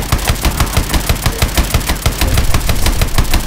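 The main gun in Call of Duty Advanced Warfare fires in a loud, rapid automatic burst, close and unbroken for several seconds with a rhythmic chatter of shots.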